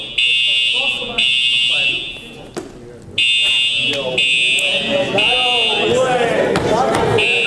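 A fire alarm blares through a university debate hall, its high piercing tone pulsing in long repeated bursts with a brief gap, while people keep talking and the audience murmurs underneath.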